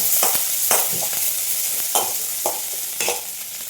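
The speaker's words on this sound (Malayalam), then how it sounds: "ഇതിലേക്ക് ഒരു സവാളയും ഒരു മൂന്ന് പച്ചമുളകും ഇട്ട് കൊടുക്കാം ഒന്ന് വാടി വരട്ടെ" Onion and green chilies sauté in a hot pan for a vegetable lunch curry, with a steady sizzle broken by repeated scraping stirs of a spoon against the pan, close and alone without speech.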